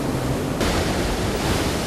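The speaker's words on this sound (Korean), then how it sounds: "아우 파도가 세지?" Strong ocean waves crash and roar continuously at close range, a dense, steady wash of surf with wind noise and no talk.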